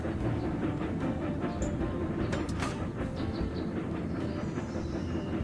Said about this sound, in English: And that train gets out of the way.